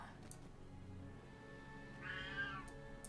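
A single cat meow in the video game Lord of the Rings Online, short and fairly clear, over quiet tones and background ambience.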